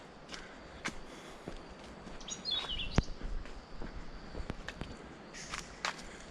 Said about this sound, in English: interesting and beautiful bird sounds here in Colombia.